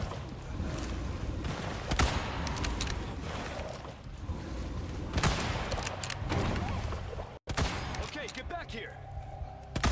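Gunfire in the video game Resident Evil 4, a string of sharp shots and impacts over game sounds and background music, with a player talking excitedly throughout.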